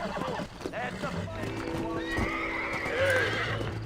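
Horse neighing and hoof clip-clop in the Red Dead Redemption video game, with several whinnies and snorts over steady galloping hooves, close and loud, while game voices speak intermittently.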